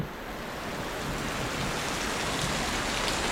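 Heavy typhoon rain pours down steadily, a dense, loud hiss with no breaks and no voices.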